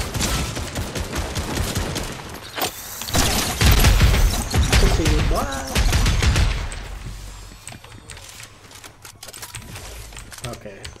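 Gunfire in the video game Fortnite, rapid volleys of shots crackling in dense bursts, loudest in the middle stretch and thinning toward the end, with friends talking over it.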